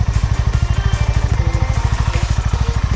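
A fully loaded touring motorcycle's engine runs steadily with a rapid, even low thumping pulse throughout, close and loud, with no talking.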